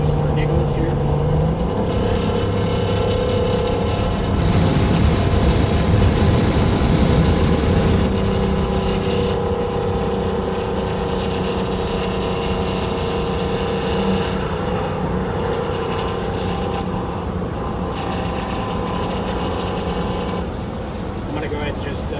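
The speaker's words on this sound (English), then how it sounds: "I'm going to go ahead and downshift just for giggles here." Low, steady engine drone of a 1962 GM 4106 bus conversion on the road, with a shift in pitch as it downshifts, continuous and fairly loud with a voice talking over it.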